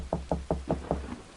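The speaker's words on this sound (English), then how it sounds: "Finally, someone knocked at the door." Five evenly spaced knocks on a door, a quiet, close rap-rap-rap rhythm followed by a fainter sixth tap, with nothing else heard.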